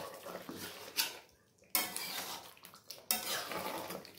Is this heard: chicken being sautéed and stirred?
yes